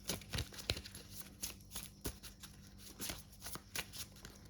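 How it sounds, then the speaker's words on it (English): Tarot cards being shuffled by hand in quick, irregular bursts of riffling and flicking, close and fairly quiet, with no talking. "my first shuffles usually like this"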